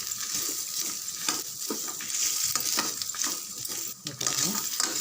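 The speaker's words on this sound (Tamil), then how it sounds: "கொஞ்சம் நல்லா வதங்கட்டும்" Sliced coconut sautés in a pan, with steady frying and sizzling broken by the scrape and clink of a spoon stirring against the metal, close by and without speech.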